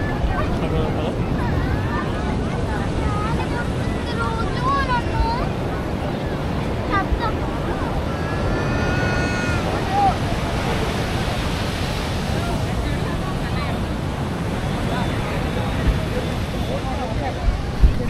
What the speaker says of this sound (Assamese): ভাল লগা এক দৃশ্য সাগৰৰ পাৰত।